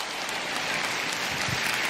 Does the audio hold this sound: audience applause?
yes